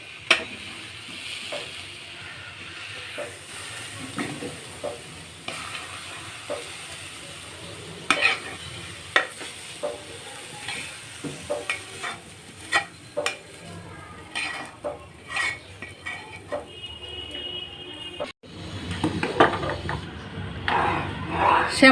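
Pan of carrots cooking in milk being stirred, with a utensil scraping and knocking against the pan in irregular clinks over a low simmering sizzle, growing busier and louder near the end.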